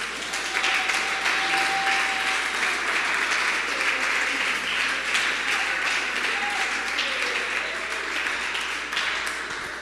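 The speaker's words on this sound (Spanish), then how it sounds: "Un aplauso a Jesús." A church congregation applauds steadily and loudly throughout, a dense, continuous wash of clapping with faint voices and a brief tone mixed in.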